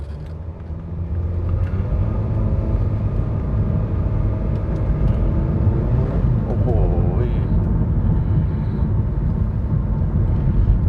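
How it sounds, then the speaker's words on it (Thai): A 2018 Honda HR-V 1.8 E SUV engine pulls under acceleration as a steady low cabin drone that rises in pitch around the middle, while a person talks faintly over it. "เดี๋ยวจะเร่งเครื่องทำทำความเร็วด้วยนะครับ"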